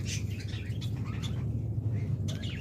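A pair of Bengalese finches chirps in quick, thin bursts against a steady low hum of background noise, the calls faint and scattered.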